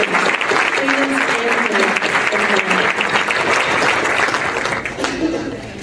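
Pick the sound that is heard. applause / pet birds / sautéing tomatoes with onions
applause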